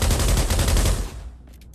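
A BAR rifle fires in the video game Pavlov, a loud rapid burst of automatic shots close by that stops abruptly after about a second, leaving a brief fading tail.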